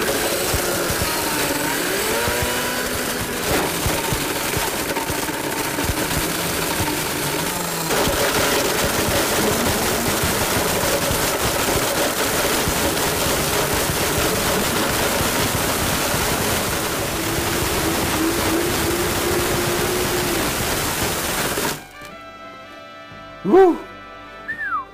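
A blender on turbo grinds up a plastic Nintendo Wii Wheel remote, giving a loud, dense, unbroken roar that lasts about twenty seconds and then cuts off, leaving near silence and one short faint sound.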